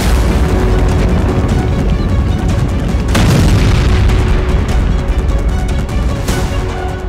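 Russian drone and missile strikes hitting Ukraine, a loud continuous roar of blasts and rumbling with sharper booms standing out near the middle and again near the end.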